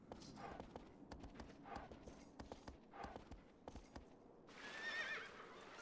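A horse in Shadow of the Colossus on PS2 clip-clops steadily near water and then lets out a loud, close whinny near the end.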